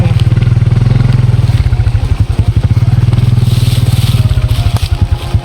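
A motorcycle engine putters steadily at low revs as the bike is driven in close by, its rhythmic chugging loud and even throughout, with faint clattering.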